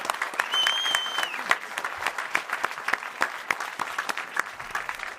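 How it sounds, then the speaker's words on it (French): A studio audience at a TV show filmed in Alpe d'Huez applauds guests Léa Drucker and Michael Youn, a steady dense wash of clapping with sharper individual claps standing out and a brief whistle near the start. "Je vous demande d'applaudir Léa Drucker et Michael Youn"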